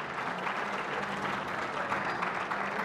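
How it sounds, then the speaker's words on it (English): Spectators at a shooting World Cup event in Changwon clap and cheer, a dense, steady burst of applause from the stands running throughout with no commentary over it. "Shouts and applause ring out from the audience here in Changwon."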